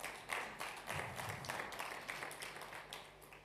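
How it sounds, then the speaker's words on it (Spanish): A church congregation claps for the Lord, a dense, sustained wash of many hands applauding together at an even level throughout. "Dale un aplauso al Señor si se lo quieres dar."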